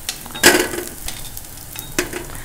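Wheat flour seedai dough balls frying in hot oil, a close crackling sizzle with a couple of sharp stirring scrapes and clinks against the pan, and no talking.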